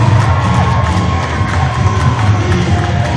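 Loud, dense cheering and shouting from a spillover crowd at an IWC professional wrestling event in Pennsylvania, a steady roar that holds without a break.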